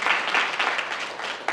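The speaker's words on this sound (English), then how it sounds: "give Durham Tech a round of applause again" An audience applauds steadily at a graduation ceremony, a dense wash of many hands clapping throughout, fairly loud and close, with no talk over it.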